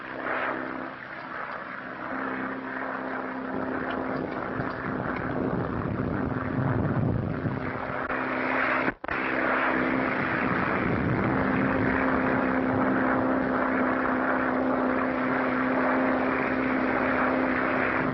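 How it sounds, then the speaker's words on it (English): Propeller plane engine droning steadily through terrific storms over the Atlantic Ocean, a loud continuous roar with wind-like rumble and a brief cut near the middle, staged as an old radio drama effect. "establishing contact with Dick Bennett, who is piloting his plane through terrific storms across the Atlantic Ocean."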